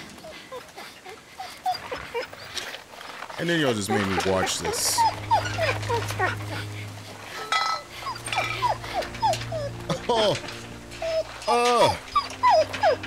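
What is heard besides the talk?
dog whimpering in the video game The Walking Dead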